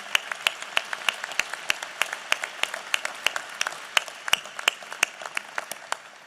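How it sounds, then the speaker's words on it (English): An audience applauds at a National Space Council meeting in the Smithsonian's Udvar-Hazy Center, with crisp individual claps ringing out in a fairly sparse, steady patter throughout. "I think they all deserve a big round of applause"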